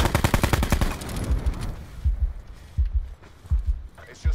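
Rapid automatic gunfire in Call of Duty Blackout, a dense burst of shots at first, thinning into scattered single shots and thuds, with a voice talking over it.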